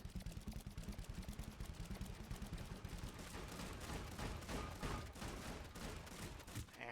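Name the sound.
gunfire from shooting in a video game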